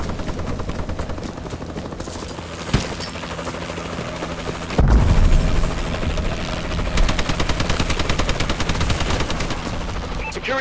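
Call of Duty: Advanced Warfare multiplayer battle: a Warbird gunship's rotor-like drone hums under continuous rattling machine-gun fire, with a heavy boom midway and ongoing bursts of gunfire afterward.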